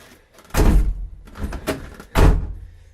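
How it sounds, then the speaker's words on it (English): A Ford Focus Mk1 car door thunks shut with a solid, close thud, followed by a second heavy clunk a moment later. "I'll close the door so it's not windy."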